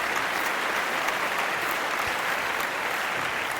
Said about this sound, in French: ça applaudit à mort. J'entends plus rien.